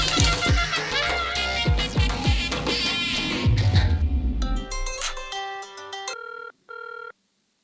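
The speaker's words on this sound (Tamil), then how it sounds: "ஃபோன் அடிக்குதுடா" Telephone ringing in a Tamil comedy film scene: after a noisy stretch of clattering music, a clear electronic ring repeats in bursts, then cuts off.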